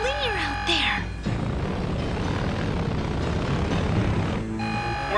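Cartoon submarine engines engage with a steady, dense mechanical drone that cuts in after a brief musical cue and holds throughout, with tonal music returning near the end.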